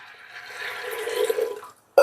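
Water is poured steadily from a metal pot into a pressure cooker holding washed pigeon peas (tur), a rising, filling gurgle lasting under two seconds, then a brief pause and a sharp metallic clank at the end. No voices.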